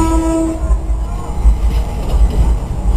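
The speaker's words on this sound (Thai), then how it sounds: "วันนี้ได้เป็นได้ยินเสียงรถไฟ วันนี้ก็จะได้เห็นแล้วว่า มีขบวนรถดีเซลราง" A diesel railcar train rumbles past close by with a low, heavy roar, after a short horn tone at the start; clattering rises as it passes.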